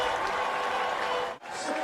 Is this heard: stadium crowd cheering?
yes